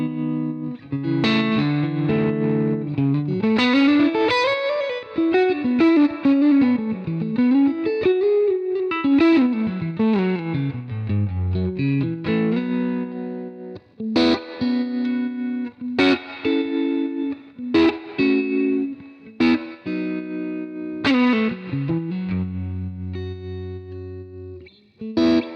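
An electric guitar played through a Universal Audio Dream 65 amp pedal, with bending, sliding melodic lines and then choppy chords and single notes, loud and continuous for about twenty-five seconds with no talk.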